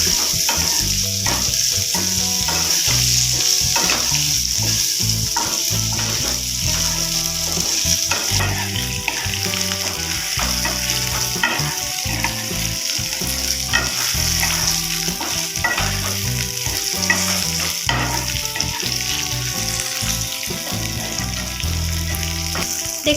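Okra sizzling and frying in hot oil with a tempering of spices, stirred steadily with a utensil; continuous close, loud sizzle with frequent scraping and stirring clatter and no voices.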